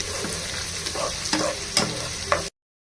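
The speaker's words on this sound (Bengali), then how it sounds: "এখন এই পেঁয়াজগুলো হালকা করে ভেজে নিতে হবে।" Chopped onions (two large) fry lightly in a pan, a close sizzle under a few distinct scraping stirs at a quick irregular pace, with no voices, ending abruptly.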